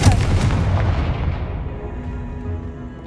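A Confringo blasting spell in the Hogwarts Legacy video game, heard as a loud booming blast with several sharp bursts at the start, then a rumbling tail that fades over a few seconds.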